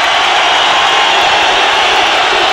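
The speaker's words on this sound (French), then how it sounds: "le stadium de Chicago est bruyant comme on entend rarement" Roaring crowd inside the old Chicago Stadium during a 1987 NHL hockey game between the Canadiens and Blackhawks, a dense, loud, continuous wash of noise holding steady throughout with no individual voices standing out.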